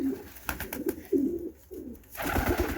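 A pigeon coos nearby in several soft, low, rolling phrases, with a few sharp knocks and rustles between them.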